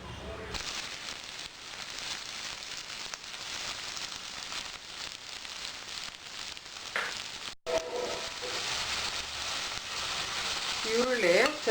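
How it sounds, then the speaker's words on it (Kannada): Onions fry in about three tablespoons of oil in a pan, a soft steady sizzle throughout, with a brief clatter of stirring near the end. "ಈರುಳ್ಳಿ ಚೆನ್ನಾಗಿ ಫ್ರೈ ಆಗಬೇಕು, ಇದಕ್ಕೆ ಕಲರ್ ಬರಬೇಕು"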